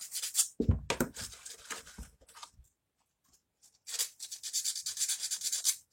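The chrome fuel tap of a Yamaha TZR 80 RR is hand-sanded in close, rapid rubbing strokes, a burst of scratchy passes, a short silent pause, then another steady run of rasping strokes.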